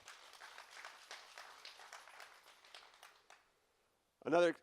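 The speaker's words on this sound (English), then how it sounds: "So let's have a big round of applause for them." An audience at a company all-hands meeting applauds the staff with a steady wash of clapping for about three seconds before it fades out, and a short voiced sound follows at the end.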